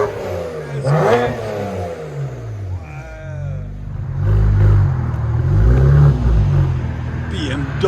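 A tuned 2007 BMW 335i with a 3.0L engine and a muffler delete revs in loud, deep, rumbling bursts close by, with people talking between and over the blips.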